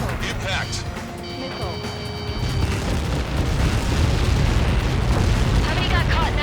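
A heavy explosion in the flight combat game Ace Combat 7 rumbles with a deep, sustained roar that swells and lingers, layered with game effects and radio chatter.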